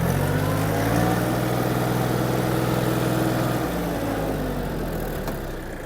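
A Yanmar F-20 mini tractor's diesel engine idles nearby, a steady low chugging rumble that gradually fades slightly toward the end.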